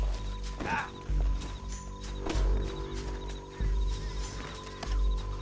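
Horse hooves clip-clopping steadily in Red Dead Redemption 2, with a brief whinny early on, mid-distance over a low ambient game soundtrack.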